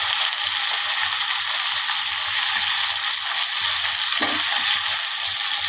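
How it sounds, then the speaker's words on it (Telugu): Drumsticks and chicken frying in oil give a constant, dense, loud sizzle with faint stirring clicks underneath and no talk. "అన్నీ నూనెనే వేయించుకోవాలి ఫ్రెండ్స్"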